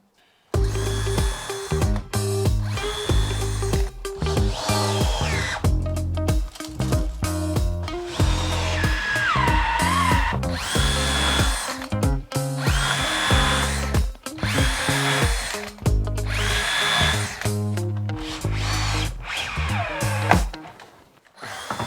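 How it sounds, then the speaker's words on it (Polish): A cordless power drill drives screws into the wooden slats of a garden table, two screws per slat, in repeated loud whirring runs with rising motor pitch and brief stops between screws, close up and with no talking. "I każdą listwę przykręcamy za pomocą dwóch wkrętów."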